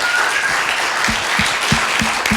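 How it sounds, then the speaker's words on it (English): An audience applauds guest Gerry Armstrong at a Scientology discussion event, loud close clapping with a few heavier thumps standing out in a rhythm near the end. "Give him a round of applause"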